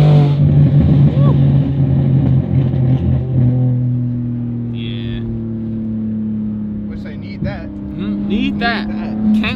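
A 1000hp TRX pickup truck engine revs and rumbles loudly at close range, a deep droning tone that rises and settles, with people talking over it.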